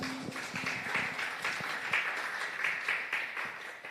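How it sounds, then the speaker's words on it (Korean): Church congregation clapping in praise after a call from the pulpit, a steady broadband patter of many hands filling the room at moderate level, with no speech over it. "우리 살아계신 하나님께 우리 영광의 박수 드리겠습니다"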